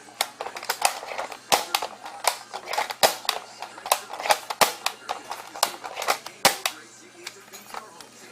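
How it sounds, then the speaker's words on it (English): Jaguar toy gun fired and reloaded over and over, sharp close snaps and clicks in an uneven rhythm, with a voice talking in between. "But you have to bring it back all the way, and then shoot."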